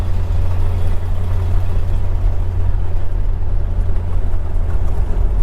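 A 1952 Ford F1 pickup truck cruising at highway speed, a loud steady low engine drone with road rumble that holds constant and unbroken, with no voices.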